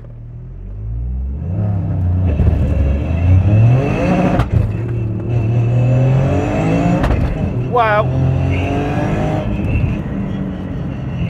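A tuned 600bhp Toyota GR Yaris on a wet road revs hard, its engine note climbing and falling with sharp exhaust spits and pops, loud and close, while a voice briefly exclaims.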